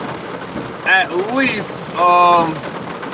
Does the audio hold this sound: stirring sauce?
no